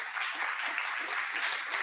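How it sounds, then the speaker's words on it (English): Audience applause greets a guest speaker at a talk on conversion tracking, a steady dense patter of many hands clapping at moderate level throughout, no voices over it. "Please give Jeremy a round of applause."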